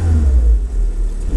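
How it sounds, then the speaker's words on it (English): A cold 2008 Citroen Berlingo LX van with a 1.4 LPG engine revs up, a loud, steady, close-up engine roar that swells and holds with small dips, with no talking. "Just increase the revs."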